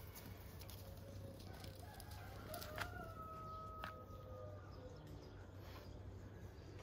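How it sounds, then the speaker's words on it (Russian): Roosters crow in a morning garden, a couple of drawn-out cock-a-doodle-doo calls sounding faint and somewhat distant over a quiet outdoor background. "А меня приветствуют петухи."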